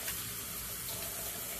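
Water runs steadily from a tap into a small shot glass set out for washing fountain pens, a soft continuous gushing stream heard close, with no speech.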